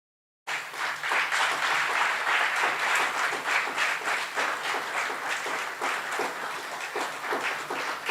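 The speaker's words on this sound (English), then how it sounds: "Please, let's clap for them." A conference audience at an internet summit in Ghana applauds staff, a dense, steady wash of clapping that starts abruptly and holds loud and even throughout.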